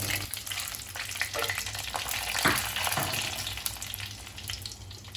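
Dried red chillies sizzle in hot oil for a sweet puliyinchi, a continuous crackling fry with stirring scrapes, fairly close and loud, no voices.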